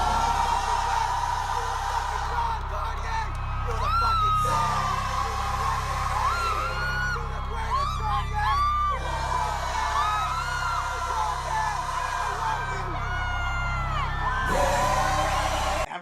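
Crowd at a concert screaming and cheering, a dense, loud wall of whoops and yells with individual voices rising above the roar throughout.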